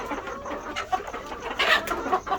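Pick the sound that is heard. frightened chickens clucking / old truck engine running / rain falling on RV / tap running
frightened chickens clucking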